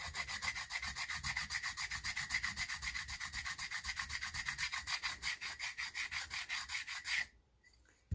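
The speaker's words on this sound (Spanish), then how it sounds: "Lo que voy a hacer va a ser lijarle la base" Steady, rhythmic back-and-forth strokes of sandpaper on an acrylic base for a pool cue tip, rasping close up for about seven seconds, then stopping abruptly.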